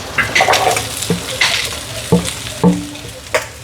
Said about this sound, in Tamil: இப்போ உள்ளியும் வெங்காயம் பச்சை மிளகாயும் போட போகிறேன் வதக்கி.